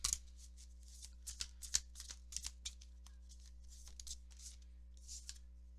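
Tarot cards being shuffled and drawn by hand, with soft repeated riffling and flicking bursts close to the microphone in a quiet room, without speech.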